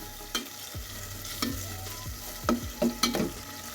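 Food frying and being stirred in a pan while cooking down to draw out sourness, with a soft continuous sizzle and several sharp utensil scrapes and taps spaced irregularly, close by with no voices.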